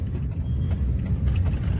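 A car pulls into a service center, its engine a low, steady mid-range hum with faint rattles and soft ticking, moderately loud and heard alone without talk.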